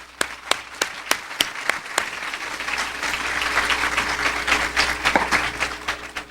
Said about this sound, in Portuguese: Aceitem ambos os aplausos da casa.